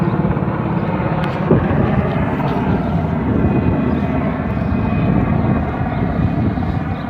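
A loud, steady rumbling engine roar of a military aircraft passing overhead, filling the whole stretch without pause.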